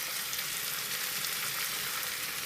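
Vegetables frying in hot oil in a pan with spices stirred in for a stir-fry, a steady close bright sizzle without pause.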